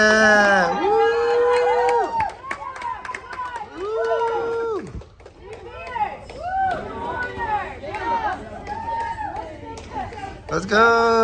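An audience at a taekwondo yellow belt test cheers and yells in bursts, loud energetic shouts and whoops rising and falling with brief lulls, several voices overlapping in a gym.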